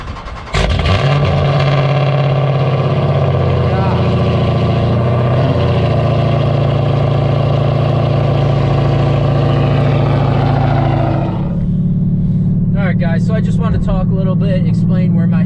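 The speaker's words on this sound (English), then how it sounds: "We're gonna give you a last cold start, full bolt-on cam, E85" Cold start of a cammed Dodge Charger 392 V8 on E85 with full bolt-ons: a loud, rough rumbling idle that holds steady for about eleven seconds, then settles to a lower lumpy idle.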